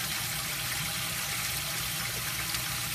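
Pond water pouring steadily over a small waterfall from a bottom drain into an Ultra Sieve III debris sieve, a constant close rushing splash with no talk.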